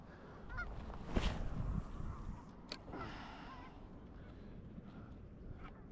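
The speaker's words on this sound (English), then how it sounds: "we got some geese fighting over there" Geese honking and squabbling across water near a bridge on a fishing outing, a loud burst of honks early then scattered distant calls, heard from a boat with faint background noise.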